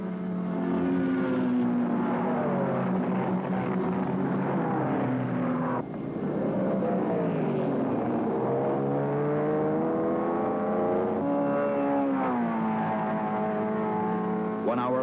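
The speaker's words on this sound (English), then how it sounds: "The Sebring champion roars across the finish line" Corvette race cars at Sebring roaring past, engines rising and falling with Doppler sweeps and gear changes, one car dipping and surging around six seconds; loud, continuous, no clear voices.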